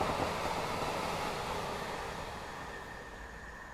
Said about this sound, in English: Oh, there's a train on it.